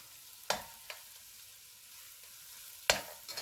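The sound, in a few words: tomatoes stirred into frying catfish curry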